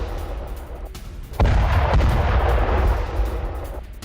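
Artillery fire during Ukrainian fighting against Russian positions: a heavy boom breaks in and rolls into a sustained, rumbling roar that fades slowly, over low background noise.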